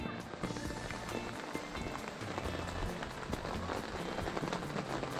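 Rain patters steadily on a tent, a dense close drumming of drops with a low murmur in the background.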